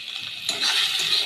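Egg hits a hot pan for a tadka curry and bursts into a loud, bright sizzle halfway through, with frying hiss already present before.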